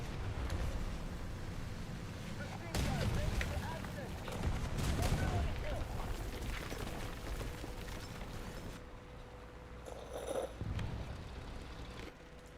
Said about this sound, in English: That point is getting fucking bombed.